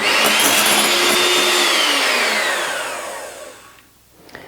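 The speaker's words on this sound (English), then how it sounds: "just mix it with a mixer like this first and then switch it on" An electric hand mixer whirring loud and close while blending powdered sugar, its steady motor whine easing downward in pitch and fading as it winds down near the end.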